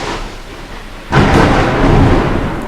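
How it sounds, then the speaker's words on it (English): Thunder rolls in with a sudden loud, broad rumble partway through, following a quieter stretch of steady rain-like hiss, and sustains to the end without any talk. "the thunder confirms"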